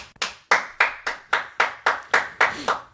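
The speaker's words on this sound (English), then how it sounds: "Clap." A small live audience claps in unison, about nine sharp, evenly spaced claps in a steady rhythm, close and clear with no talk over them.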